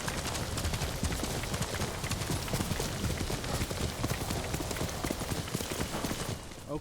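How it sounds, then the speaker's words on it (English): Horse hooves clip-clopping at a steady gallop in the video game Ghost of Tsushima, a dense, continuous rhythmic pounding with galloping motion throughout, loud and close, no voices heard. "Grab our horse and ride out."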